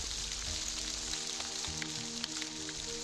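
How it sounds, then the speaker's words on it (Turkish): Rain falling at night, a dense, even hiss of drops pattering on surfaces, steady and fairly faint with no voices. "Ya Cafer-i Sadık, gece yarısı bu yağmurda evden neden çıktın?"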